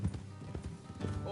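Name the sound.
horses' hooves, from the video game Red Dead Redemption 2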